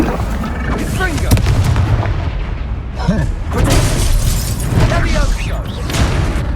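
A Confringo fire spell blasts repeatedly during combat in the video game Hogwarts Legacy, loud booming bursts with crackling impacts that come in quick succession over a dense, noisy battle backdrop.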